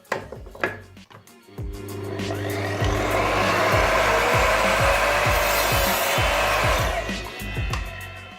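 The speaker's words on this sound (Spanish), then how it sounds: "Ahora vamos a realizar el corte, este mismo corte en esta madera a 45 grados." An Evolution R255SMS sliding miter saw spins up and cuts through wood at a 45-degree angle, a loud sustained blade whine and grinding rasp lasting several seconds before winding down, with no talking.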